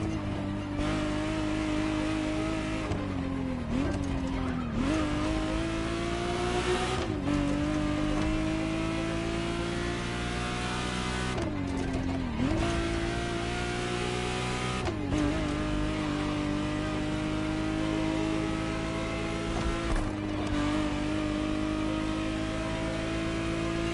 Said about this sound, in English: The exact model MOTORFEST has put in your hands is the 1991 re-engineered version of the Testarossa, introduced as the 512 TR.